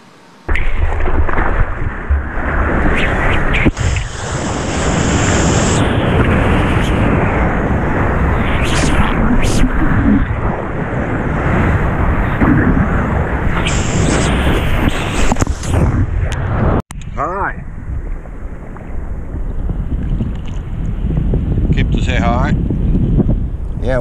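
Choppy ocean water off Kihei, with waves churning and heavy wind buffeting the microphone, loud and continuous throughout, while a person talks briefly over it.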